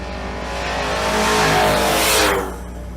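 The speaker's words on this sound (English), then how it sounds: "Jeff Short with the Silverado OBS in the right lane" A Chevrolet Silverado OBS race truck revs hard in the right lane at a drag race at Twin Cities Raceway in Monroe, Louisiana, its loud engine note climbing over about two seconds and then cutting off sharply.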